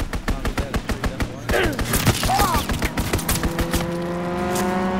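Rapid strafing-run gunfire in a video game, with loud regular bursts that give way to scraping and rising whines. A voice talks over the shooting.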